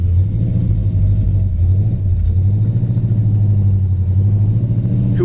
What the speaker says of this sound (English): It's got that awesome muscle car sound to it.